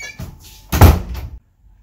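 A door swings and bangs shut, one loud close thud with a short rattle, followed by silence.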